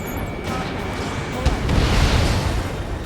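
A tank explodes in Ace Combat 7 with a dense, rumbling blast that swells under continuous roaring battle noise and engine drone, with a voice faintly present in the mix.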